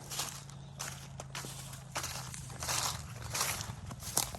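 Footsteps on outdoor ground, a series of soft crunching steps at an unhurried walking pace, fairly quiet over a low steady hum.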